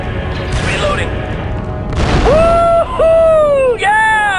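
Blast in the Star Wars Republic Commando shooter, a sudden broadband burst followed by whining tonal sweeps and game effects, loud over ongoing combat noise.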